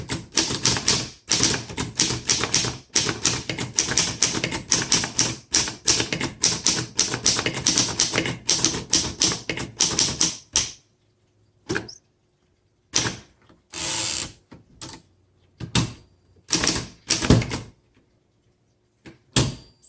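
A 1928 Underwood 4-bank antique typewriter is typed on, with rapid, close, crisp key strikes for about ten seconds. Sparser clacks and mechanical clunks follow with pauses between them.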